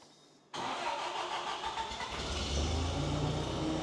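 A 1941 Caterpillar engine cranks and catches abruptly after a quiet moment, then settles into a loud, steady mid-pitched running drone that deepens slightly as it picks up, close by with no talking.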